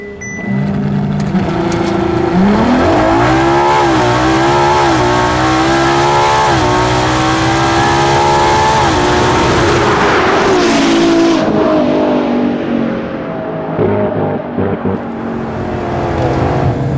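A Ferrari drag car launches hard down the strip, its engine screaming loud and close as it climbs through several gears in rising sweeps, then the roar fades as the car pulls away into the distance.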